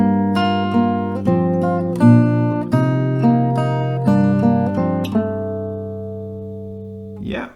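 An acoustic guitar plays a melody as a run of bright, plucked notes over ringing lower strings, with a steady rhythm that ends in a final strum and a fading ring.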